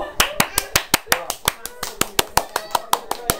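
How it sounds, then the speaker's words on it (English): Crowd clapping at New Year fireworks in London, a quick, steady run of close, sharp handclaps. "Come on, clap everyone."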